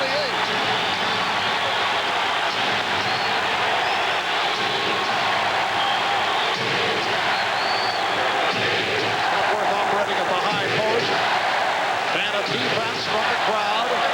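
Arena crowd at Game 6 of the 1992 NBA Finals, Bulls against the Trail Blazers in Portland, chanting for defense as a loud, steady roar running the whole stretch beneath a commentator's voice.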